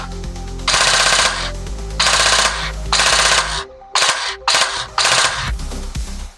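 A CYMA M4 gel blaster with an eShooter MOSFET fires in full auto, loud buzzing bursts of rapid shots, several long strings and then shorter clipped bursts with brief gaps.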